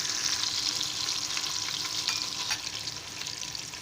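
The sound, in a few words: onions frying until golden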